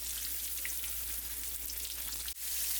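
Pork chops frying in a pan over medium-high heat, a steady close sizzle with faint pops and crackles under a low hum, briefly dipping near the end.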